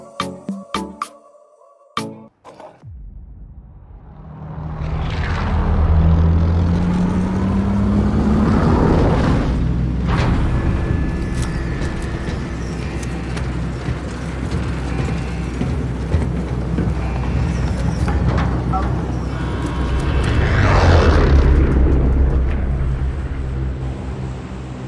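Vehicle engines in PUBG gameplay rise and fall in loud, sustained surges, with a brief burst of game sounds at the start.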